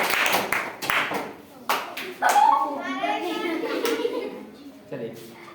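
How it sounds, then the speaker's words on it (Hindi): Children in a primary-school maths class clap for a classmate, a short burst of quick, sharp claps that gives way to children's and a teacher's voices. "तालियां इनके लिए।"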